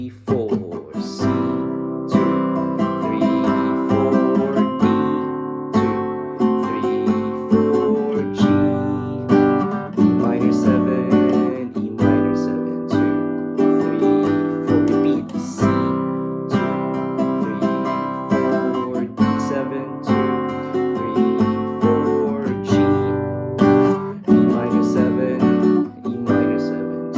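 Chords from the chorus and post-chorus of a song, played as a steady, full-bodied progression with rhythmic re-struck chords, loud and close, with no talking throughout.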